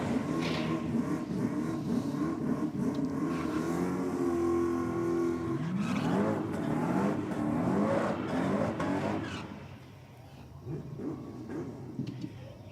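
A race car roars past with a rising, then falling engine note and hard revving, loud and close, before the engine fades into the distance.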